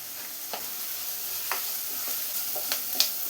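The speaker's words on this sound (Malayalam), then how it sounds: "സവാളയും പച്ചമുളകും എല്ലാം കൂടെ ചെറുതായി ഒന്ന് വഴറ്റിയെടുത്തിട്ടുണ്ട്" Onions and green chillies being sautéed in a pan with curry leaves and salt, a faint steady sizzle broken by a few soft scraping stirs, with no talk.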